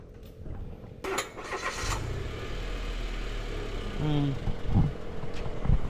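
A manual car's engine cranks and catches after a stall, followed by a low idle with brief rumbling revs, while an instructor speaks nearby.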